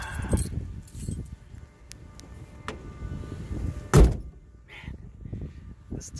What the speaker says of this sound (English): that sound the door makes when it closes